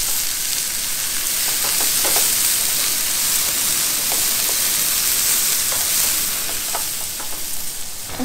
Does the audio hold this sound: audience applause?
no